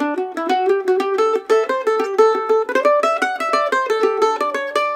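Mandolin with double courses playing an Irish jig with triplets using a thin flexible pick, quick bright picked notes in a rolling lilting rhythm, close and clear with no talk.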